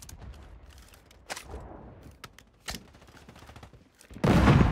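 Bursts of gunfire from Call of Duty Warzone 3 in Vondel Park: scattered single shots, then a loud sustained volley at the end, with quieter game noise between the bursts.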